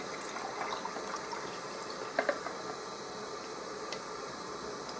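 Cold water pours steadily into a ration pack meal in a soft, continuous trickling stream, fairly quiet and close, with no voices.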